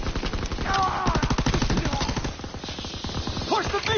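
Suppressive machine-gun fire in the World War II shooter Call of Duty: WWII, a loud, steady stream of rapid rounds rattling on for several seconds while voices shout over the battle.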